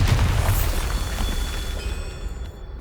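A Bombarda blasting spell explodes in Hogwarts Legacy, giving a heavy low boom that opens the clip and then rumbles and decays, with faint magical ringing tones lingering afterward.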